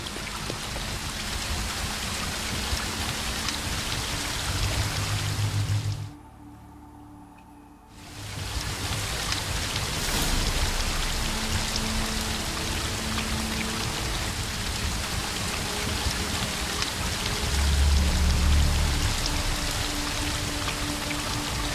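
A river current rushes steadily in The Witcher 3, a dense continuous wash of flowing water that briefly drops out midway, then resumes at the same level.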